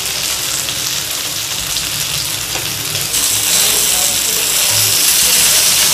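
Vanjaram fish coated in masala with a little tamarind fries in a pan, giving a steady, close hiss and crackle that grows a bit louder midway, with no talk over it.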